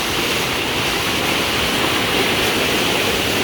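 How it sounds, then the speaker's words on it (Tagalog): Heavy rushing water roars steadily and loudly, a dense unbroken wash of noise like a powerful waterfall close by. "mas malakas ngayon ang tubig kaysa kanina"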